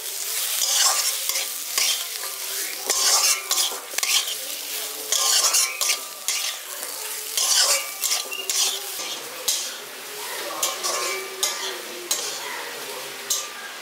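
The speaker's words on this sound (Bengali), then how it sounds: "এবার মশলাগুলো ভালো করে মিশিয়ে দিচ্ছি।" Ground spices, including cumin powder, stirred into frying winter vegetables in a pan, with loud repeated scraping strokes of a spoon over a constant hissing sizzle.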